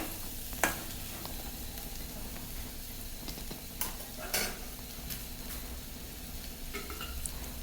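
Chickpea tempering is stirred in a pan with a spoon, giving a few sharp clinks and scrapes against the metal over a soft, steady sizzle. No one speaks.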